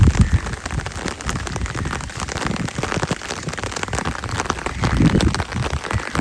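Heavy rain pours down steadily and loudly, a dense continuous hiss of drops striking surfaces close by, with no voices over it.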